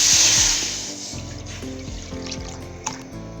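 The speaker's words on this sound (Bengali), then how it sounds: "কড়াইয়ে দিয়ে দেবো পানি" Water poured into a wok on the stove rushes in loudly at first, then settles into a lighter splashing trickle with low background hum.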